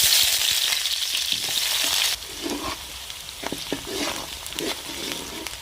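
Chopped onions sizzle loudly in hot oil with mustard seeds for a fish curry, a steady close frying hiss that eases after a couple of seconds into softer crackling and popping.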